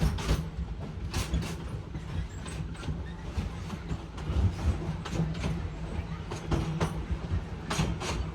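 A Disney World train rumbles along the tracks with continuous rattling and rhythmic clacking, a steady loud roar throughout.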